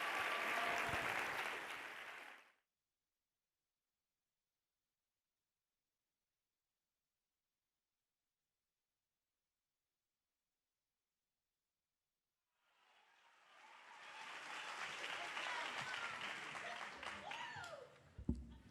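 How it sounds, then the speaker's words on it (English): Applause from a Broadway performance audience, a loud burst of clapping that cuts off abruptly, followed by a long stretch of silence before clapping and cheering swell back up near the end. "So give him a big round of applause."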